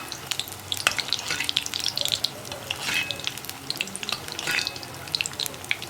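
Neyyappam, a sweet made from rice-flour batter, fries in hot oil with a steady crackling sizzle. Sharper pops and spatters rise and fall throughout, close up, with no talking.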